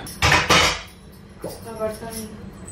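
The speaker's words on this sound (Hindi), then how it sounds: "और भगवान का भी बर्तन करके रख रही हूँ" Dishes and utensils clatter while being washed in a home kitchen, two sharp loud clanks early on followed by softer clinks and faint background voices.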